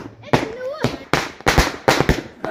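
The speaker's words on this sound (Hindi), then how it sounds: "आतिशबाजी देख सकते हैं यहाँ पर।" Firecrackers burst in a village wedding procession, sharp loud bangs in a rapid irregular series, with faint voices and a whistle-like tone in between.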